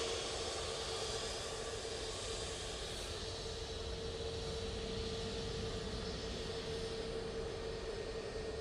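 An Airbus A321neo airliner passes close in front at Manchester Airport, its engines producing a steady, loud, broad roar that holds evenly throughout with no talk.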